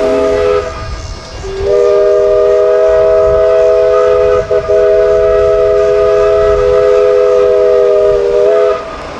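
A steam train on the Midwest Central Railroad at Old Threshers, Mount Pleasant, Iowa, rumbles past nearby, its chuffing under a long, steady steam whistle that sounds for most of the clip, with a brief break partway through.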